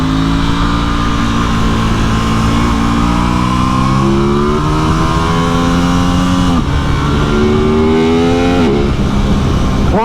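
A 2021 Aprilia RS660 sportsbike accelerating hard through the gears, its engine and airbox letting out a loud, close rising growl with several sharp drops at the gear changes.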